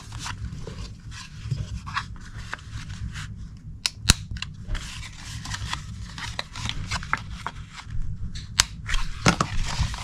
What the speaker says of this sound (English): then we just need to round the corners of this top flap here